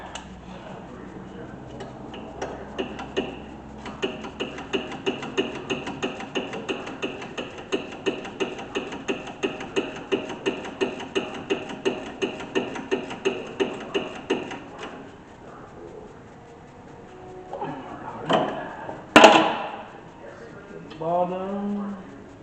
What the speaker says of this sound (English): Tap it with the hammer just a little bit.